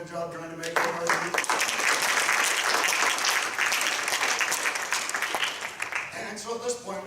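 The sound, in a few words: audience applause after a debate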